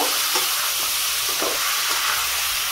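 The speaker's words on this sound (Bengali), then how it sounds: "একটু হালকা নেড়ে চেড়ে নেব, 5 মিনিট মতো একটু ভেজে নেব" Mango pieces frying in oil in a pan, a close, steady sizzle with soft scraping stirs and a few brief clinks as they are turned.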